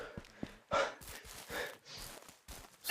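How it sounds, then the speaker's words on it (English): A player character in the game Medieval Dynasty pants and breathes heavily after running, in repeated breathy gasps mixed with soft footstep thumps, with no talk over it. "If my guy would stop panting."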